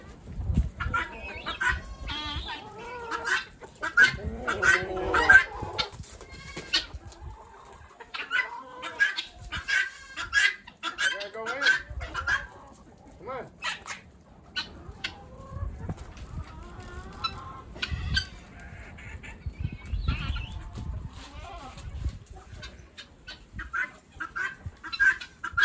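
Chickens cluck and squawk continuously close by in a farmyard, with a busy, overlapping flock sound and occasional louder calls.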